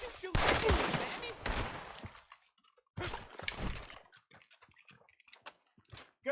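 Gunfire in Red Dead Redemption 2 during a hillside shootout: sharp, sputtering volleys of shots up close, a loud cluster early, a pause, then another burst and scattered lighter cracks trailing off.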